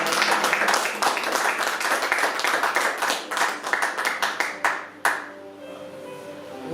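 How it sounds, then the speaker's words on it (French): A church congregation claps and applauds together, a dense, loud, sustained burst of many hands that thins into scattered individual claps and fades out near the end. "Acclamons pour le Seigneur."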